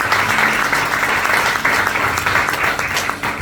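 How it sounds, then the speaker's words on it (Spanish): A church congregation breaks into applause after a prayer, a loud, dense burst of clapping filling the whole moment. "Den un aplauso al Señor."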